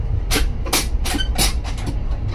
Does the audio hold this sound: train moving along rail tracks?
yes